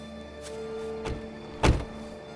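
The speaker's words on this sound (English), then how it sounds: "Now roll the windows down." Car power windows rolling down inside a parked car, a couple of short motor whirs followed by a louder thunk as the glass stops, heard close in a quiet cabin.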